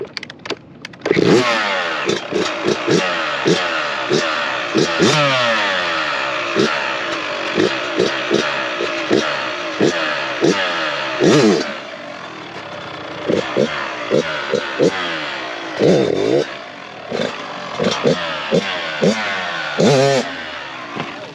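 A 2023 Kawasaki KX112 dirt bike engine revs hard again and again during wheelie attempts, with sharp throttle blips and swooping pitch rises and falls. It is loud and close, with brief pauses between bursts.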